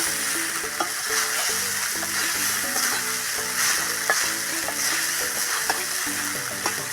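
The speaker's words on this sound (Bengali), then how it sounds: "দেখুন কি সুন্দরভাবে ভাজা হয়ে যাচ্ছে সাবু ভাজাটা" Sago (sabu) with fried potatoes sizzles steadily in a pan, a close, even crackle with light scraping stirs and a few small knocks, with no voices.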